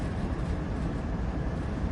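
Low steady rumble of a long oil train departing on Cajon Pass in Train Sim World 3, a continuous droning roar without breaks or voices.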